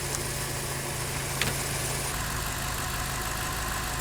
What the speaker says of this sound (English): There's a little bit of a whine. It sounds like it may be from the transmission, so it's probably still low.